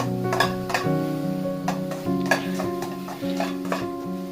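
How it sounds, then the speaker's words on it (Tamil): Chopped onions stirred in a cooking pan, with the spoon scraping and clinking against the pan in irregular strokes. A steady musical background with a repeating tonal pattern plays underneath, and there is no talk. "கிளறி விட்டுக்கோங்க காய்ஸ்"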